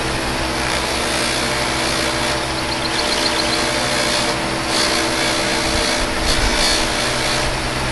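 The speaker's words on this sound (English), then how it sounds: "the table buffer." A table buffer machine runs continuously with a loud, steady motor whine and a broad rushing hum, close by, with slight shifts as the buffing wheel is worked.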